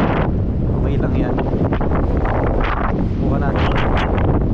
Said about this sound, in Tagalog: Medyo malakas yung hangin banda rito